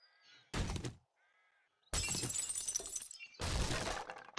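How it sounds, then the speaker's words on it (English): Chairs being bashed in 7 Days to Die Alpha 20, three loud smashing, shattering impacts separated by quiet gaps, with faint bird caws in between and no talk. "Bashing chairs."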